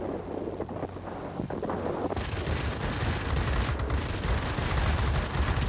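An aircraft's machine guns open up in World of Warplanes after a couple of seconds of rushing engine and wind noise, turning into a dense, continuous rattling roar that stays loud to the end.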